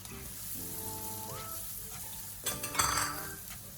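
Garlic and onion sauté in butter in a pan: a close, steady sizzle with stirring scrapes and a few metallic clanks of a utensil against the pan, and no talking.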